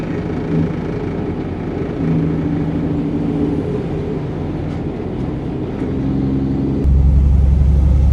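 A heavy truck with a 13-speed transmission rolls into a truck stop, its engine droning and shifting pitch through the gears, rising to a louder, deeper roar near the end.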